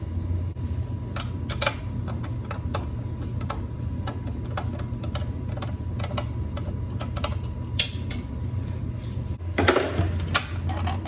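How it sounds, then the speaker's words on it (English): Repeated sharp ticks from a ratchet wrench loosening 10 mm bolts on the carburetor of a Honda EM3500 generator sound close over a steady low hum, ending in a brief louder scrape, with no talking. "Now we're going to remove these 10mm bolts that bolt it to the carburetor."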